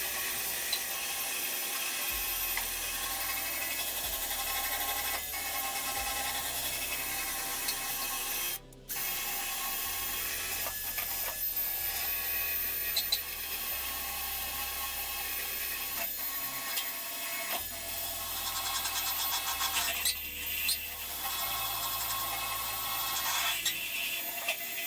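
A power abrasive tool grinds surface rust and body filler off a car body panel with steady loud scraping and whirring, close up, with only a brief cutout partway through.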